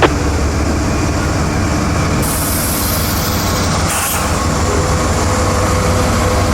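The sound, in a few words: freight train Q455 moving through Baldwin rail yard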